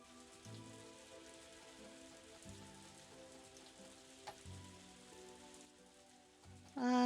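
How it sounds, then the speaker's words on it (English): Soft, steady rainfall patters in the farming video game Story of Seasons: A Wonderful Life, a quiet continuous hiss of drops under faint background game music. "It's gonna be raining."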